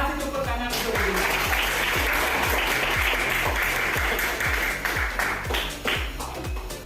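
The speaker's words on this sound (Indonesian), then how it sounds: "Kasih tepuk tangan untuk Regina." A classroom of students applauding a classmate, with dense, steady clapping filling the whole stretch at close range and fading slightly toward the end.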